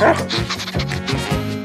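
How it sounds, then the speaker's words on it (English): A dog gives a few short yipping barks over a busy, cluttered background in a playful family comedy sketch, close and fairly loud. "my dog!"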